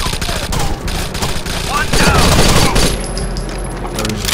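Teammates' automatic gunfire in Rainbow Six Vegas 2 rattles in dense, loud bursts throughout, with sharp cracks and a brief boom, while game chatter sits faintly underneath.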